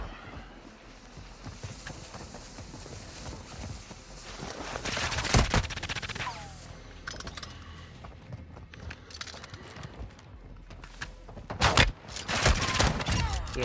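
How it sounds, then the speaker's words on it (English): Bryson 800 pump shotgun blasts in Warzone 2, with two heavy booming shots around five and twelve seconds standing out over continuous game action, footsteps and clatter, with no voice in the clip. "See if I can shoot on this kid"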